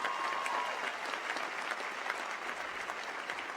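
A commencement audience claps in sustained applause, a dense even wash of many hands heard from some distance, fairly quiet and steady with no voices rising above it.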